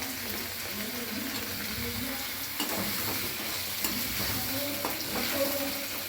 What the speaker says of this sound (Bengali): আলুটা একটু ভাজা ভাজা হয়ে যাক রসুনের সাথে।